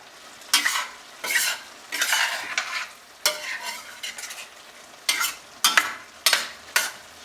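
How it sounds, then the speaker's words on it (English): Pork and beef mince potato curry being tossed in a hot pan, loud bursts of sizzling and scraping in repeated rhythmic waves with brief pauses between them, close and clear, no talking. "you can toss this in the pan so that the liquid dries up"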